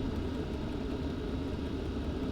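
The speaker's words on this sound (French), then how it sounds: "on va allumer le chauffe-eau qui est juste à côté" A camper's water heater runs in a steady, loud roar like a jet engine, with a continuous low rumble and broadband hiss holding evenly throughout with no voices.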